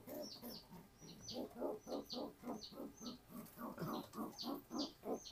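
A kolong pigeon brooding its eggs gives soft, low, rhythmic cooing, a steady run of repeated pulses close by but quiet, with faint higher chirps over it.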